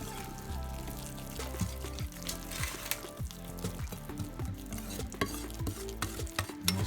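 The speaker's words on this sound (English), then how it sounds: "you can take your spoon, or like I said, or a whisk, and we're just gonna mix it up." A spoon or whisk stirs pancake mix batter in a bowl, a steady run of soft wet scraping and clicking strokes that continues alone and fairly close throughout, with no talking over it.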